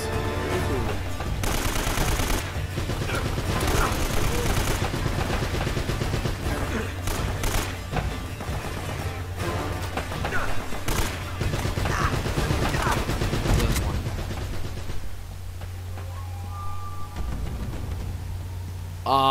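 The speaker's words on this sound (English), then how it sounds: "There are shooting around here." Video game gunfire from Uncharted: Drake's Fortune rattles almost continuously in dense, loud volleys and bursts over a low rumbling backdrop.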